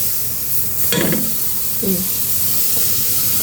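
Steam hisses steadily from a pressure cooker while soup (sopas) cooks. A brief clatter comes near the start and a soft knock follows, all over the continuous close hiss.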